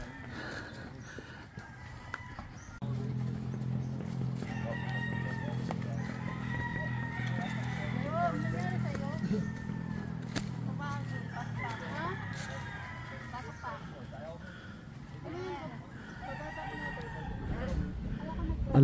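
Game fowl roosters crow repeatedly on a farm range, calls rising over a steady low rumble, while people talk through most of it.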